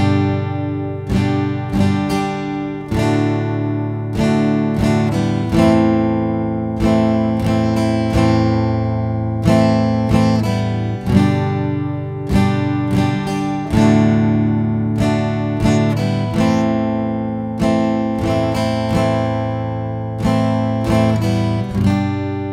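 Acoustic guitar strumming a song's chord changes in a steady, unhurried rhythm of down and up strums, with chords ringing clearly, close and alone without any voice.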